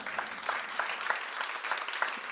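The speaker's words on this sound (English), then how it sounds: "Can we just clap at her for a second?" Steady applause from a crowd, a dense patter of clapping that holds at an even level throughout.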